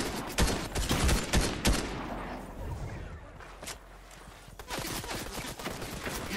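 Rapid gunfire in a Fortnite match, with clustered sharp shots early on, a lull, then more bursts, near and loud, with a voice speaking briefly.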